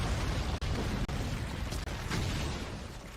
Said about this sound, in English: A violent explosion echoed as the light column struck the abyss floor, igniting a towering sea of flames that pierced the darkness.